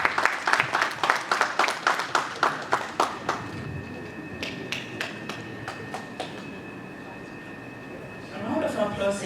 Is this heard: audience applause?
yes